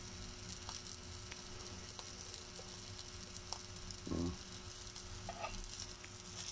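Dried shrimp fry in a pan with a steady low hiss of sizzling oil, occasional faint taps of a utensil, and a brief clatter partway through.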